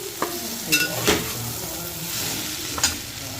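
Chickpeas and brinjal curry frying in a pan, stirred with a utensil that scrapes and taps against the metal a few times over a steady soft sizzle, close by with no talk.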